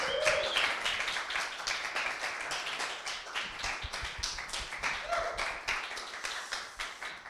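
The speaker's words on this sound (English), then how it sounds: "So I really want to give a big, big round of applause to George, Cam, Cass, Sheila, Sai, Shivika, Rob, Ian, Tom, Yurek, Ray," Room full of people clapping steadily at a coding bootcamp demo day, a sustained round of applause for the teaching team, fairly distant and moderate in level.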